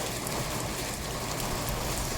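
Steady heavy rain pouring down on a farm, a dense continuous hiss of drops striking surfaces, loud and close with no voices.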